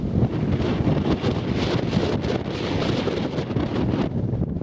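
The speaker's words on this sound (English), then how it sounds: "Well, certainly very windy." Strong gusty wind roars and buffets the microphone continuously on a countryside walk near Kintbury, England, loud and rumbling with no talking.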